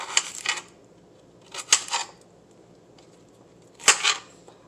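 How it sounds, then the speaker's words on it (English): Knife chopping vegetables into smaller dice on a cutting board for a crockpot recipe, three short clusters of quick near chops separated by pauses, fairly quiet overall. "So I'm just going to finish dicing these up a little bit smaller."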